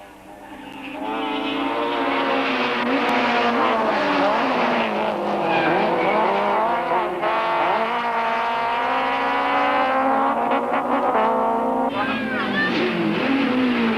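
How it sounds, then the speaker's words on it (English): Rally cars race flat out on a spectator stage at Swartkops Raceway near Pretoria during the 1992 Total International Rally, engines screaming loud and close with rising and falling revs and gear changes held throughout. "With 2 and 3 cars on the stages at any one time, the spectators are treated to some spectacular driving."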